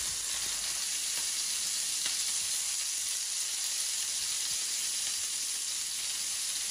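Burger frying in very hot oil, a loud, steady, close sizzle with crackling that holds evenly throughout, no voices.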